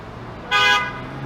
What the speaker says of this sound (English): There's a Ferrari getting honked at.